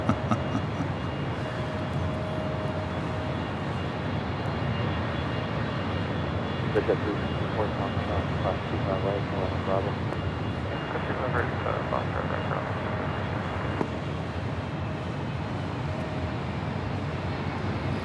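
A United Airlines Boeing 757-200 taxis toward Terminal 7 at Los Angeles International Airport, a steady jet engine rumble and whine running throughout while a voice talks over it.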